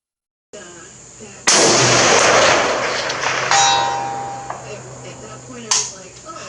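A 7.62x51mm Galil AR rifle fires a sharp, loud shot that rings out with a long echoing tail, followed by a metallic clang and a second crack a few seconds later, outdoors at a range.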